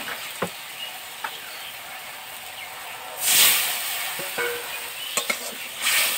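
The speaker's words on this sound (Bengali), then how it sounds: "মাছ ভাজে যেটুকু তেল ছিল সেই তেলেই মশলা দিয়ে দিলাম" Spices sizzle in a little leftover oil from frying kuche fish, a steady soft hiss with a louder burst of sizzling midway and a few clinks of stirring.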